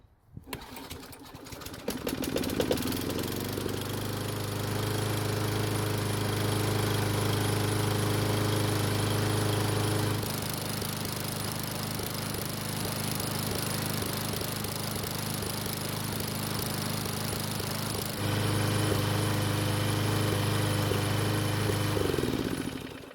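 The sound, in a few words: Craftsman lawn mower engine starting and running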